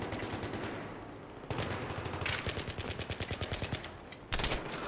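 Rapid automatic fire from a UMP submachine gun in the video game Battlefield 3, with bursts of regular, close shots and a louder volley near the end.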